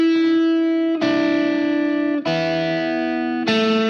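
Electric guitar played through effects, picking the intro of a song with an uneven rhythm: sustained chords struck four times, the gaps between strikes irregular, loud and close with no talking.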